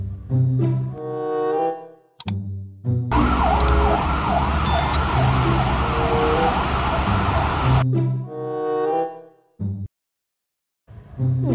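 A toy fire truck siren wails in a loud, steady warbling sweep for several seconds, close by, with speech before and after it.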